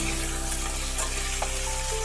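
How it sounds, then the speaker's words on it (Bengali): Pointed gourd (patol) frying in a pan over a low gas flame, giving a dense, steady sizzle throughout with faint stirring and a low hum beneath. "এবার একটু ভাজা হয়ে গেছে। গ্যাসের ফ্লেম কিন্তু আমার সিমেই রাখা আছে"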